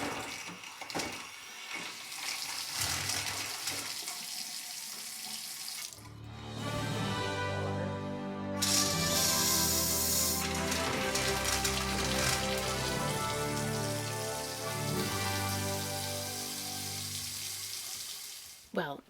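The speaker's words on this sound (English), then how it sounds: "So now we're going to turn the valves on up to this faucet." Cold water gushes steadily from a newly plumbed faucet in an off-grid Vermont yurt, a loud continuous splashing hiss that starts partway through after a stretch of quieter handling noise and runs to the end.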